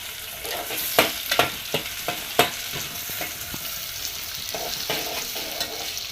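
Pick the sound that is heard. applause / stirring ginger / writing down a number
stirring ginger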